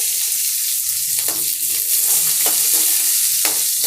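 Oil sizzles steadily with chopped onions frying for a Chettinad-style mutton potato fry, broken by several scraping strokes of a spoon stirring the pan, close and fairly loud.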